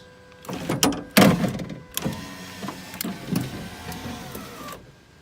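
Power window motor on a 2003 Infiniti G35 Coupe runs after a new motor and regulator are fitted, a strained whirring drive with clunks and a louder thump early, then a steady whine that stops near the end, close up.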